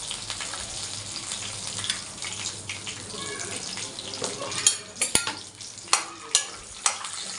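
Peanuts frying in oil in a pan while being stirred for lemon rice, a steady close sizzle with scraping stir strokes growing sharper and more frequent toward the end.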